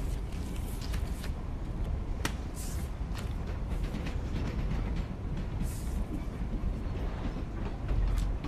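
A passenger train rolls along its rails with a steady, continuous rumble and faint rhythmic clatter, carrying on evenly from start to finish with no voices heard.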